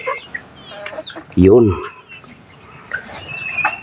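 A chicken lets out one loud, close cluck partway through, amid faint bird and insect sounds outdoors, with a brief spoken word nearby.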